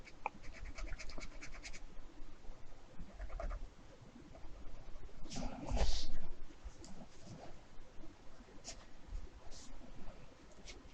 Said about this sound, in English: I'm just gonna sketch over that